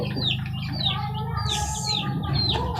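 Baby chicks peeping, a busy overlapping run of high, thin downward-sliding peeps repeated quickly and close by over a low background hum.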